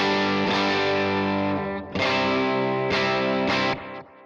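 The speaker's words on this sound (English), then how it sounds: "here's the AC15 sound without the supro preamp on" Distorted electric guitar chords ring out in sustained strums through a Vox AC15 amp model on a Line 6 Helix, with a brief dip before re-striking, crunchy amp tone, no voices.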